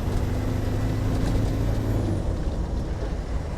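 A 1998 Land Rover Defender 130 with a 300Tdi diesel pulls hard through the gears, a steady droning engine roar with whooshing wind and road noise, continuous and fairly loud from inside the cab.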